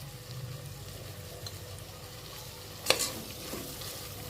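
Mint and coriander leaves sautéing in a pan for chicken macaroni biryani, a soft, steady sizzle under light stirring with one sharper scrape of the utensil.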